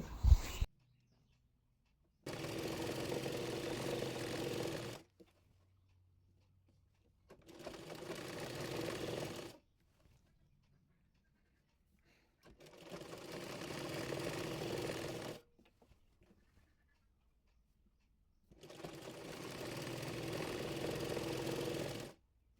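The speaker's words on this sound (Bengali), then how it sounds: "এরপর ফিতা ঘরটি মুড়িয়ে সেলাই করে নেব।" An electric sewing machine stitches the waistband casing of palazzo pants in four separate runs of fast, even whirring, each a few seconds long, with quiet pauses between them.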